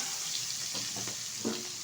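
Cleaned shrimp dropped into hot oil for a shrimp and potato curry, a faint, brief hissing sizzle with a few soft bubbling bursts, no voices.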